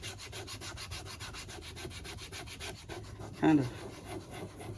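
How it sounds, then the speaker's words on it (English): 120 grit emery cloth is rubbed back and forth over a leather strop in quick, even rhythmic strokes, close and faint, ending with a brief louder scuff; a voice murmurs briefly. "I'm gonna take some 120 grit emery cloth that I was sanding leather with"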